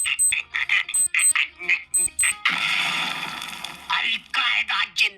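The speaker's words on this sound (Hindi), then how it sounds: "उधर एक बच्चे की घड़ी का अलार्म बज गया और वो बजता भी बॉम्ब के टाइमर जैसा है।" A child's wristwatch alarm at school beeps like a bomb timer, with short high repeated pips in quick bursts, mixed with choppy voices and a brief noisy hiss partway through.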